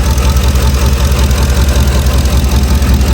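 A car engine fitted with a high output alternator idles steadily and loudly up close, with a constant low rumble and faint rhythmic pulsing and no other sounds.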